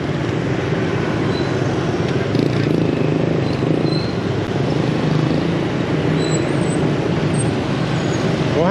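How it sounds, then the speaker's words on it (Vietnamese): Heavy street traffic in Saigon's Cho Lon area, a dense steady roar of engines and road noise close by with faint horn beeps, no clear talk. "Quá trời luôn trên kia kìa, xe đông nghe kìa."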